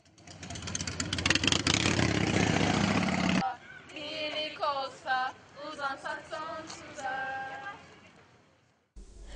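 A loud, broadband engine roar from a group of motorcycles supporting a charity event fills the first three seconds, then gives way to voices talking.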